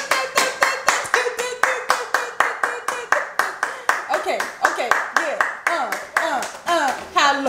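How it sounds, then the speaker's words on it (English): A group of people claps in a steady, fast rhythm, sharp broadband claps repeating about three or four per second throughout, while a voice talks and calls out over the clapping. "Everybody clap your hands."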